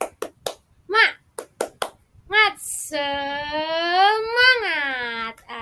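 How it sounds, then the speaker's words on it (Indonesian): A rhythmic 'tepuk semangat' classroom clapping chant: short groups of sharp hand claps alternate with chanted syllables, ending in a long, drawn-out sung cry from a single voice. "Kita tepuk semangat bersama-sama ya."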